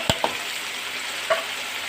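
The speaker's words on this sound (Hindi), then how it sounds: "तो प्याज हमारा फ्राई हो चुका है। अब हम इसमें ये मसाले सारे शामिल कर देते हैं" Fried onions sizzle softly in a pan as spices go in for a chicken kofta curry gravy, with a few quick spoon taps and scrapes over a steady frying hiss.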